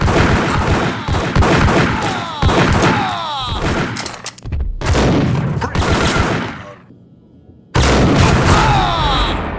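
Gunfire in the video game Max Payne on iOS: dense bursts of rapid shots and booms, loud and close, with a brief lull before the firing resumes.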